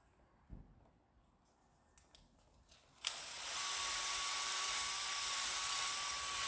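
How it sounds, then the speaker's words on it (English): A drill-driven hone cross-hatches an engine cylinder at about 120 RPM. A few faint clicks and taps come first, then the tool starts abruptly with a loud, steady high-pitched whine that holds to the end. "we're cross-hatching it. You know, give something for the piston rings to bite into"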